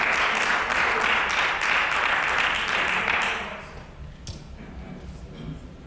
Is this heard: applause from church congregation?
yes